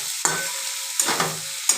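Garlic and ginger frying in a pan for a Bengali brinjal ghonto, a steady close sizzle punctuated by three sharp stirring scrapes roughly half a second apart, with no voices.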